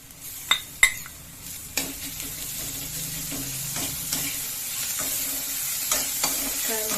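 Ginger, garlic and chili paste stirs in a pan of frying onions, a steady soft sizzle under sharp clinks and scrapes of a spoon, fairly quiet and without voices.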